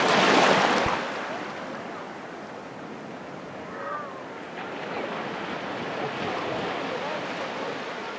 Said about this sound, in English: Relax and feel the cool waves washing on your feet.